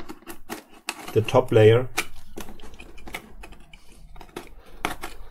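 Craft knife cutting away the top layer of cardboard on a handmade Star Wars Darth Vader helmet, a run of short scraping and clicking cuts close by, with someone talking briefly in the middle.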